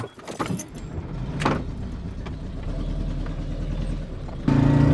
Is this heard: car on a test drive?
yes